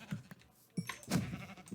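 Sheep bleating in Minecraft version 1.12.2, a few short separate calls at moderate level with faint clicking between them, no talk.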